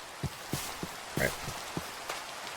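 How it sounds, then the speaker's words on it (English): Rain falling in the Minecraft video game, a soft steady patter with scattered louder droplet taps, fairly quiet and heard without any voices. "It's really foggy in the rain."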